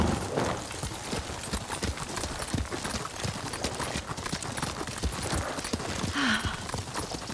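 A horse trots in Ghost of Tsushima, its hooves clip-clopping in a quick, steady rhythm over a dense bed of game ambience, with a short whinny-like cry near the end.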